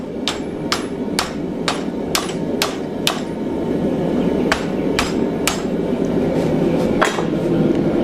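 A quick run of ringing hammer blows on bent metal for a stake cup holder, then a pause and a few more strikes, close and crisp against a low hum.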